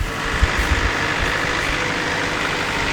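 A tractor engine runs steadily in a hay field, a loud, continuous low rumble with some thumps early on and no break through to the end, heard close without talk.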